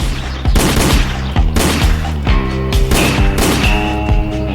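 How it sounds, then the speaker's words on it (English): Intense battle gunfire from a hillside ambush: rapid bursts of close, loud shots and machine-gun volleys crackling in overlapping rhythm throughout, with no speech over them. "Hellish gunfire suddenly erupted from the hill."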